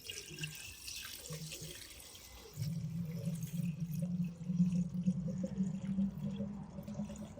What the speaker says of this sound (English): So finally, let's put some water in this.